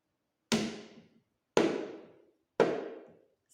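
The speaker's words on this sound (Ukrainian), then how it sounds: "Я буду вам стукати в барабан, а ви повинні будете рахувати, скільки разів я стукнула." Drum struck three times at an even pace, each beat a sharp, close hit with a short ringing decay and silence between.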